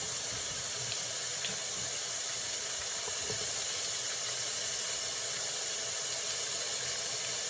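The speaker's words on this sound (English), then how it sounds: "I'm gonna turn on the cold water" Cold water runs steadily from a kitchen tap, a continuous loud rushing hiss with no pauses or voices.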